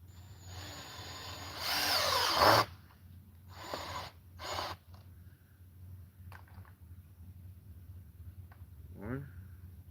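Power drill driving deck screws in a couple of short, loud whirring bursts with pauses between, followed by quieter handling noises; a person talks faintly in the background.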